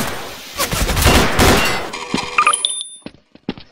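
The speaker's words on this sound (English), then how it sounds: "He got a gun!" Rapid bursts of video game gunfire, dense and loud for about two seconds, then scattered shots with bright metallic pings and clinks.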